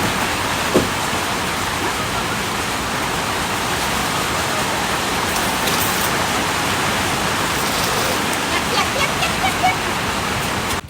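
Rain falls steadily at a banana plant garden, a loud, even rushing hiss with scattered drips and a faint voice in the background.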